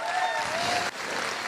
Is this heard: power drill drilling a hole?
no